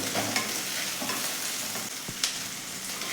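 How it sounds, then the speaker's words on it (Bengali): Onion sizzles in a little oil in a pan while making a healthy chicken dish, a steady close crackle with occasional sharp scrapes and taps of a spoon stirring. "এবারে এর ভিতরে আমি পেঁয়াজটা দিয়ে দেব পেঁয়াজটা একটু ভাজবো"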